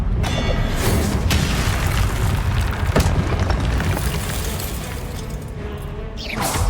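A Confringo blasting spell explodes in the Hogwarts Legacy video game, a loud sustained roaring boom with crackling debris that fills the whole stretch and fades slightly near the end.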